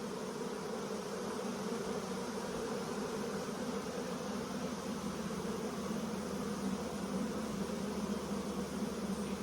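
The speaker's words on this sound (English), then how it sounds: "now all the bees are making their way in, fanning beautifully" Honeybees fanning at the entrance of a hive as a caught swarm moves in, a continuous close buzzing drone that stays even and unbroken throughout, with no voices.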